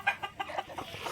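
Free-range village hens cluck in a backyard coop with short, repeated soft calls at a close, moderate level and no talking.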